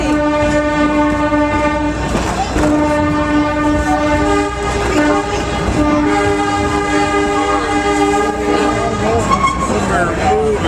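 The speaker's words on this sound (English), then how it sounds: "We're moving. We're going so fast on the train." A moving passenger train carries a rider along, with a loud, continuous rumble, sustained horn-like tones and rhythmic clatter from the rails close by, and voices audible over it.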